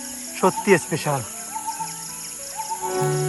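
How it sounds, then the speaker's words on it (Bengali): Crickets on Chandranath hill keep up a steady, shrill chorus of sustained chirping tones, while someone speaks briefly over them near the start. "চারিদিকে ঝিঝি পোকার কি মধুর একটা সুর শোনা যায়।"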